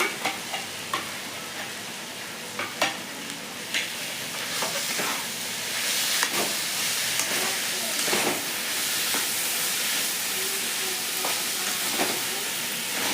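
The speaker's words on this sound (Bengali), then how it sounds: "মশলার সাথে কলার বোটাটা ভালো করে ভাজা ভাজা করে নিচ্ছি" Banana blossom stalk fries with spices in a pan, giving a steady sizzling hiss with occasional stirring clicks, close and continuous without talk.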